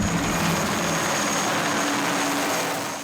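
Military helicopter arriving to evacuate wounded soldiers in Mali, a loud, steady broadband engine and rotor roar that fills the clip and eases off slightly at the end, with no voices.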